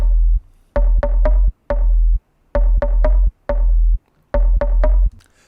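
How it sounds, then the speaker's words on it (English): A punchy, distorted bass synth plays short plucked notes in a repeating rhythmic pattern with brief gaps, loud and up front, in a UK garage track. "There's a low sub and there's also a plucky bass layer."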